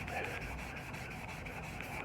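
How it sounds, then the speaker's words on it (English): A rusty Jeep body is sanded down to bare metal with a steady, continuous abrasive scraping, close and even in loudness throughout, with no talking. "and re-sanding down to bare metal where I should"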